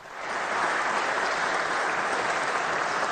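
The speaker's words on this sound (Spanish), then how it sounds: "No se sabe qué aplauden, pero en fin." Applause from an audience rises quickly and then holds as an even, continuous wash of many hands clapping, moderately loud and slightly distant, with no voices standing out.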